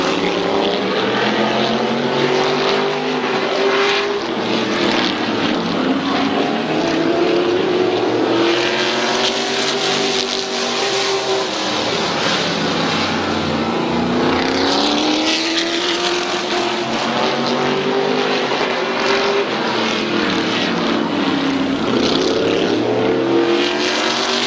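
Race cars at Midvale Speedway roaring past on a dirt oval, loud engine howls rising and falling in pitch as the field sweeps by in repeated waves over about twenty-five seconds, with no talk.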